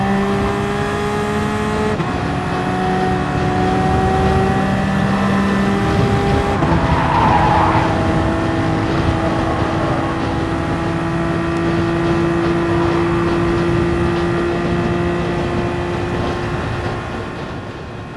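Toyota race car in GT Sport accelerating hard in a daily online race, a loud sustained engine drone with rising harmonic whines, tire squeal and other cars roaring close alongside throughout.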